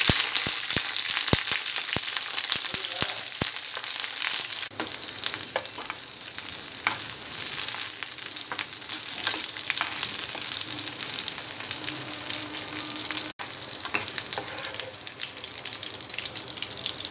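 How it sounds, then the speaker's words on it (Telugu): Green chillies fry in hot oil in a pan with a loud, continuous crackling sizzle. Sharp pops and spatters fall fast at first, then the sound settles into a dense, steady hiss. "ఆయిల్ వేడిన తర్వాత పచ్చిమిరపకాయలు ఫ్రై చేసుకోవాలి."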